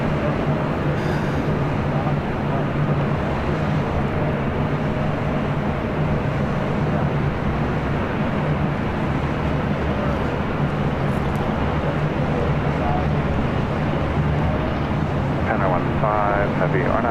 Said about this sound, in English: this is Japan Airlines Flight 15 heading to Tokyo Haneda